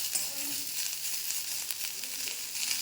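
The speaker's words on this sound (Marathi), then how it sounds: "कांदा भाजत आला की त्यामध्ये आपण मिरे, लवंग आणि दालचिनी पण टाकून घेऊ." Onion fries in a pan with black pepper, cloves and cinnamon, making a steady close sizzle with faint crackles and a light scrape of stirring.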